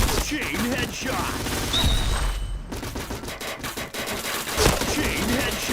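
In the shooter game Point Blank, dense rapid gunfire rattles in repeated close bursts, with a brief lull in the middle and faint game sounds around it.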